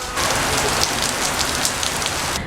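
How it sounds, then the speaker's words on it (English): Heavy rain pours down steadily in Austria, a dense, loud, even hiss of drops that continues without a break throughout. "This is not a bit of rain, this is a lot of rain. It is bucketing it down out there."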